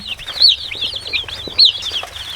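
Baby chicks chirp steadily in a rapid stream of high, thin peeps, close and clear, with a few louder calls standing out.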